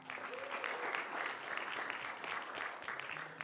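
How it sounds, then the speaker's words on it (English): Faint crowd applause at a 3x3 basketball press conference, honouring coaches, a steady patter of many hands lasting several seconds, heard from a distance. "Let's please give them a big hand of applause."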